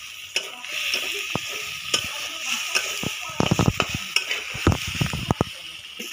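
Onion, green chili and tomato sizzling in spiced oil, a bright close hiss punctuated by frequent sharp clatters and scrapes of a utensil stirring against the pan.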